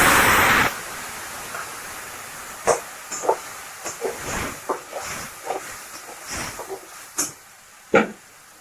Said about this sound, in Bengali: টমেটো মরিচ ছেড়ে দিই।